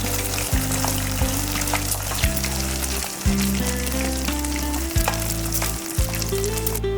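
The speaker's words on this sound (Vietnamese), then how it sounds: "Em chiên với lửa vừa để trứng chín từ từ" Steady, loud sizzling of eggs frying over medium heat in a thin layer of hot oil, with crackles and pops throughout and no talking.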